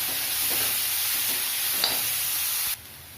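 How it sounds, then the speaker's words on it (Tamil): Onions for an eggplant (ennai kathrika) gravy sizzle and fry steadily in a pan with green chillies and curry leaves, with a few stirring scrapes, then the sizzle drops away near the end. "அதில் வெங்காயம் நல்லா வதங்கிட்டுங்க."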